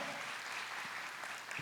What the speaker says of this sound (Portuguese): Uma salve de palmas para vocês dois